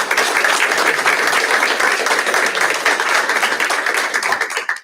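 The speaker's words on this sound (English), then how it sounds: "So if you could just join me in a quick round of applause for their appreciation." A school board meeting audience gives a steady, dense round of applause, many hands clapping evenly at close range for the whole stretch before stopping abruptly.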